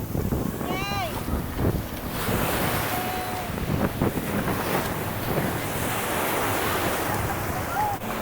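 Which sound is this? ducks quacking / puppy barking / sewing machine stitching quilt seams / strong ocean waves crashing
strong ocean waves crashing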